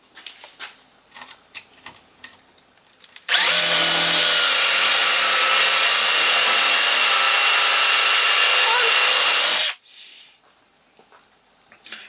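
An improvised spindle sander grinds wood for a homemade lap desk in one loud, steady, high-pitched run lasting about six seconds, with faint knocks and handling sounds before and after.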